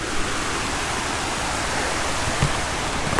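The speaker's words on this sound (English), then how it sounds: "So you can hear the nice sounds of the water flowing through the river." A steady, close rush of the Mormons River runs over rocks in Shenandoah National Park on a quiet autumn day, a dense unbroken wash with no voices.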